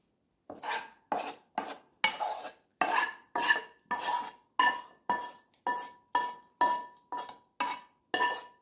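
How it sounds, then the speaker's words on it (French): Rhythmic, steady clinking and scraping as a spoon mixes duck and mushroom pie stuffing in a bowl, about fifteen even strokes in a row, close and fairly loud with no talking. "On mélange bien pour que la farce soit bien uniforme"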